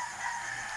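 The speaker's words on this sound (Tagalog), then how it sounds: "dyan na naman tayo sa mga manok na kapitbahay natin" Neighbours' chickens clucking and crowing, a steady, fairly faint fowl sound filling a brief moment with no talk.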